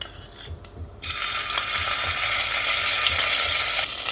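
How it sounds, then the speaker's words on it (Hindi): Ginger garlic paste hits hot oil with a sudden loud sizzle that settles into steady, close frying crackle, preceded by faint clinks. "अब इसमें डालेंगे अदरक लहसुन का पेस्ट 1 चम्मच"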